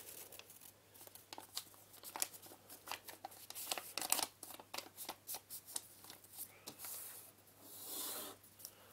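Origami paper being folded and creased, with soft crinkling, rustling and sliding strokes of paper, close up and quiet.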